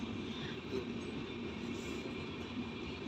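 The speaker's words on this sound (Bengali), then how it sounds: "এটা হচ্ছে কিউলিক এক্সপ্রেস" The Kiul Express train running produces a steady, low rumble and rolling noise from inside or close to the train, with no clear voices heard.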